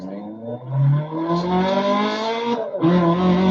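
A rally car engine in the Dirt Rally 2.0 video game revs loud and close, its pitch climbing steadily, then dropping briefly at a gear change before rising again.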